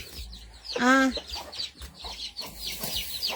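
A hen clucking near her chicks in a rural yard, one loud close cluck with faint peeps and rustling around it, with people talking at moments.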